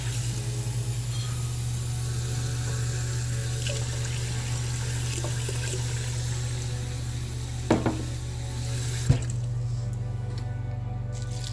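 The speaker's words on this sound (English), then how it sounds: "I'm gonna put some water in it" Steady stream of tap water running into a pot, a continuous hiss with a low hum underneath and a couple of small clanks.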